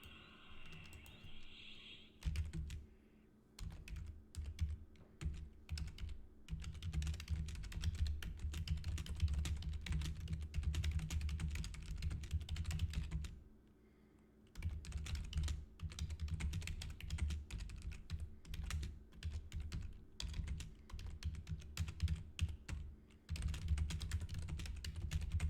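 Steady, close typing on a computer keyboard during an EverQuest game session, with quick irregular key clicks in bursts and two brief pauses.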